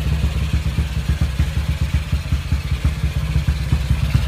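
Clicking from a worn imitation part in a tuned 57-stroke motorcycle engine, a rapid steady tick running through the whole stretch over the idling engine hum, close and fairly loud.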